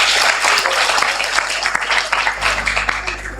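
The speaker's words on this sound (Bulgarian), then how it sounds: "нека да ръкопляскаме на Джордж" An audience at a sermon claps for George, with dense, sustained applause filling the room at fairly close range and continuing without a break.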